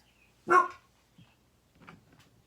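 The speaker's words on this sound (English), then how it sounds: "that was a dog in the distance, and this was a dog close" One sharp dog bark rings out from some distance, followed by a couple of fainter, softer yips in an otherwise quiet space.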